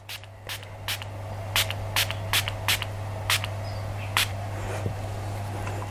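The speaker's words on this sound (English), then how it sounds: "So let's give it a spray." A series of about nine short, sharp spray bursts at irregular intervals, close by, over a steady low electrical hum.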